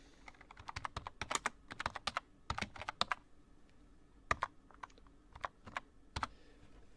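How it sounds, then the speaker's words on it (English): Computer keyboard typing in irregular bursts of quick, crisp key clicks with short pauses between runs, close and fairly quiet, with no talking over it. "I can either type the content directly,"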